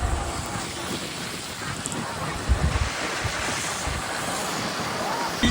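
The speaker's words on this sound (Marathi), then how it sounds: "लाटा येतात. लाटा खवललेत खूप." Rough sea waves surging onto a beach beside a road, a continuous broad roar of surf mixed with heavy wind buffeting the microphone, loud and steady with a brief swell midway.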